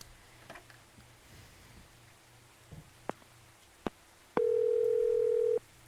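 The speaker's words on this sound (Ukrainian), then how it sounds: "Виклик вайбера." A steady electronic ringing tone of an incoming Viber call in the video game Moves Away sounds alone for about a second, after a few faint clicks and taps over a quiet hum.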